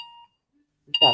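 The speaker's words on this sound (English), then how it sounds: "That is my alarm." An electronic alarm beeps, starting with a short steady tone, then a pause, then another beep that overlaps a voice speaking near the end.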